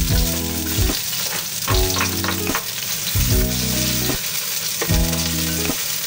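Chopped onions sauté in a little oil for chicken pochero, giving a steady, close sizzle with stirring scrapes. Recurring tonal swells sit underneath.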